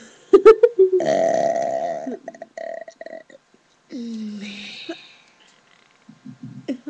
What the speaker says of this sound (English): I'm out of burps.